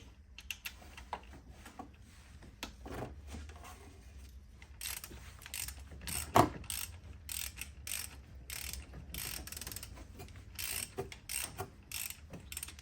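Work on the alternator of a 2003 Mercedes-Benz C240 (W203): a ratchet clicks and metal parts tap as an alternator bolt is loosened. The sounds are close, quiet and irregular over a low hum.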